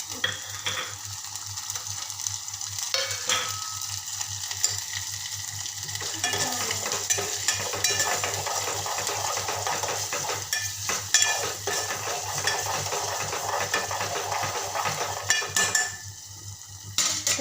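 Finely chopped tomato is stirred into cooking masala in a pan, with a steady sizzle and frying hiss throughout and repeated scraping, clinking spoon strokes against the pan, close and continuous.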